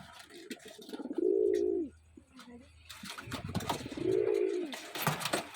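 Pigeons coo in low, rolling calls, two distinct coos a few seconds apart, with some nearby rustling and faint talk in between.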